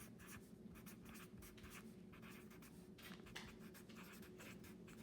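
Notes are written by hand with a pen or pencil on paper, heard as faint, close scratching strokes in short bursts with brief gaps between them. No voice is heard.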